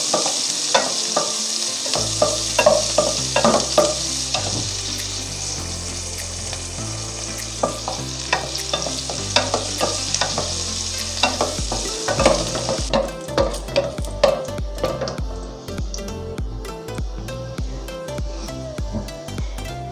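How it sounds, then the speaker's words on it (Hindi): Onions sizzle and fry steadily in hot oil in a pan, a loud continuous crackle with repeated clinks of a stirring spoon against the pan. "प्याज को हम गोल्डन फ्राई करेंगे।"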